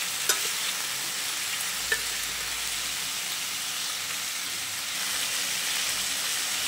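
Raw mango pieces sautéing in a pan, a constant soft sizzle and hiss with a couple of sharp spatula taps near the start, heard close and without speech.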